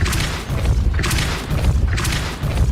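Three heavy booming impacts from the Depulso force spell in Hogwarts Legacy, each a loud deep thud with a bright crackling burst, evenly spaced about a second apart with no talking.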